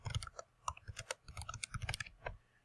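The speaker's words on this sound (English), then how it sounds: "I'm going to type my answer here" Rapid, uneven bursts of keystrokes on a computer keyboard as an answer is typed into an online writing journal, close and fairly quiet, with no talking.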